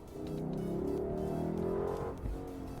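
A Lexus LC500 V8 engine revs up sharply, its pitch climbing in a smooth rising whine for about two seconds before dropping off.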